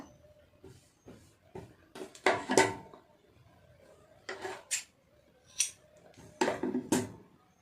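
Scissors cutting blouse fabric: a series of crisp snipping and crunching cuts in uneven bursts, close and fairly quiet, separated by short pauses.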